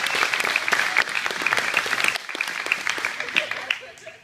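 Applause fills a room at a jiu-jitsu gym during a belt promotion at Alvarez BJJ, steady dense clapping from a crowd that eases off slightly partway through, with a little background voice.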